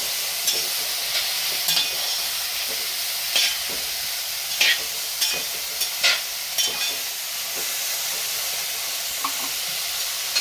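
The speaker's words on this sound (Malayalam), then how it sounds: "നമുക്കിതൊന്ന് ഇളക്കി കൊടുക്കാം" Chopped onion flowers stirred in hot oil in a pan for a Kerala-style thoran, a continuous sizzle broken by repeated scraping spoon strokes against the pan, close and clear with no voices.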